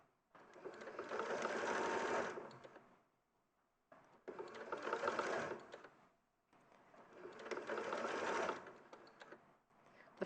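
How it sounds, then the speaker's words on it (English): A sewing machine stitches through flexible, good-quality felt in three long bursts of roughly three seconds each, separated by short pauses, close and steady with no talking. "The felt's quite easy to sew on because it's quite flexible."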